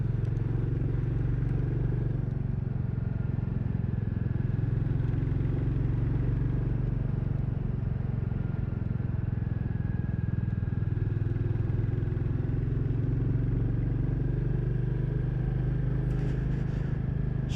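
A Royal Enfield Classic 350 motorcycle rumbles steadily on a rough, badly broken road, its low engine drone constant and close throughout, with faint clattering over the bumps.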